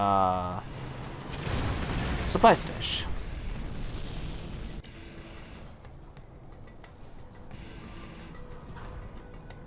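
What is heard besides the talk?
artillery barrage explosions in video game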